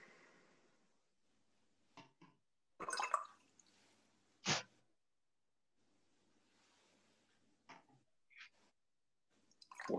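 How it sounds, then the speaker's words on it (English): A watercolour paintbrush is rinsed in a small pot of water, giving a few faint, sparse splashes and swishes separated by quiet gaps. "Wash it out with a bit of water."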